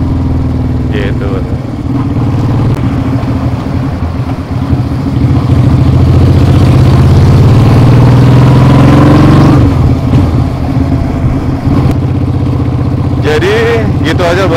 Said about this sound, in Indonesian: untuk saya tunjukkan suara knalpotnya ketika jalan seperti inilah ya